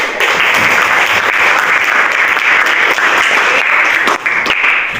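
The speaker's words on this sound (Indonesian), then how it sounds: "Tepuk tangan." Classroom applause from a group of students after a teacher's evaluation, a steady dense patter of clapping sustained for about five seconds with a brief dip near the end.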